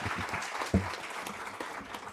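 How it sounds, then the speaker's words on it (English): A short burst of applause from a small crowd for panelists at a business talk, brief and moderately loud. "could we just give a round of applause to our panelists?"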